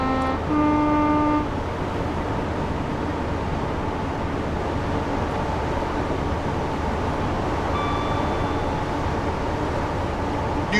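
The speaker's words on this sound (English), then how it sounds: "it's quite nice driving along this in a HST." A Class 43 HST 125 high-speed diesel train runs in Train Sim World 5 on the Euston to Milton Keynes line, with a loud, steady engine and rail rumble under two short two-tone horn blasts, one at the start and one late on.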